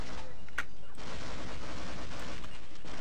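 Continuous heavy gunfire and booming blasts in the Half-Life shooter, a dense, loud barrage running the whole time with a couple of sharper cracks near the start.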